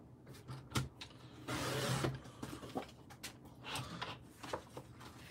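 A paper trimmer cuts down a card panel with a brief sliding blade rasp in the middle, framed by scattered clicks and handling knocks of the cutter and paper, fairly quiet and close.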